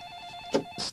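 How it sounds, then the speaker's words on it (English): A telephone rings in a dark house hallway at night, a steady ringing tone with a few short louder bursts near the end of the one-second sound, heard alone with no talk. "Stumbling out into the dark hall, she groped her way towards the ringing."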